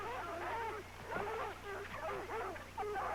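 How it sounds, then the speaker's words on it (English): Hounds baying on the scent, with bloodhound-like howls and yelps rising and falling in overlapping bursts, several dogs at moderate distance, continuous over a steady low background hum. "My father once owned a pair of bloodhounds, and their baying sounded like that when they were on the scent."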